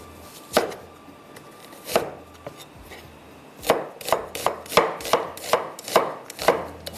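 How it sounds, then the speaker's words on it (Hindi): Onion being chopped with a knife on a board: a few spaced cuts, then a quick run of sharp, regular chops, close and clear with no talking. "वैसे तो मैं कटिंग कर लेती हूँ प्याज को ऐसे।"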